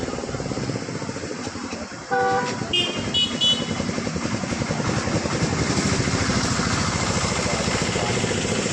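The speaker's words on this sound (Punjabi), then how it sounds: "ਸਕੂਟਰ ਮੋਟਰਸਾਈਕਲ ਵਾਲੇ ਜਿਹੜੇ ਨੇ ਬੜੀ ਮੁਸ਼ਕਲ ਨਾਲ ਲੰਘ ਰਹੇ ਆ" Scooter and motorcycle engines drone steadily close by, rising as they push through dirty standing water flooding a road, with a short horn toot partway through.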